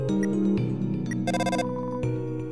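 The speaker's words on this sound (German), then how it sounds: "Toriel hat dir eine SMS geschickt." Text message notification from a phone in the video game Undertale, a bright tonal ringtone melody with a short high buzzing burst in the middle, heard clearly and alone over about two seconds.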